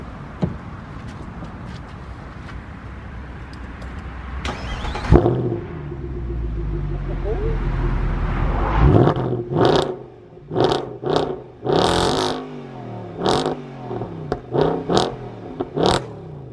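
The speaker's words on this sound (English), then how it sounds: "set the camera up and rev the car so you can see how cool the engine sounds" A car engine rumbles and whirs, then after a loud start it is revved in a series of sharp repeated bursts that rise and fall, each blip distinct and close with brief pauses between.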